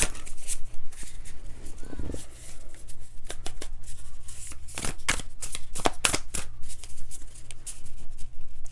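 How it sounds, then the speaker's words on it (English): Tarot cards being shuffled by hand in quick, crisp riffling bursts, repeated again and again, close up with no talking. "I will just shuffle until we get one that wants to be read"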